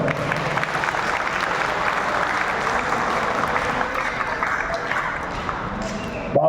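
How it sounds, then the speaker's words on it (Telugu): Audience applause at a film stunt masters association meeting in a town hall, dense and steady clapping sustained throughout at a fairly loud level. "ఒకసారి చప్పట్లో"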